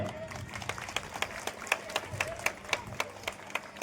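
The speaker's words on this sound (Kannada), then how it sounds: "ಜೋರಾದ ಚಪ್ಪಾಳೆ" A crowd at a school cluster-level event claps in unison with sharp, evenly spaced beats, moderately loud, while voices murmur underneath.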